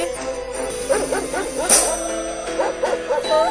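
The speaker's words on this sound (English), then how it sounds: "Reginald, release the hounds." Hounds bark and yip in a rapid cluster of sharp calls, close and fairly loud, over a steady musical background.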